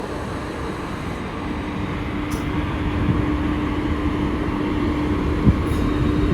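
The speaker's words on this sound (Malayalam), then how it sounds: "നമ്മുടെ WDP 4D ഇവിടെ മുന്നിൽ വന്ന് കിടപ്പുണ്ട്." Steady low rumble of a WDP 4D diesel locomotive idling at a railway station on the Tambaram–Kochuveli route, with a faint constant tone over continuous background noise and no talk.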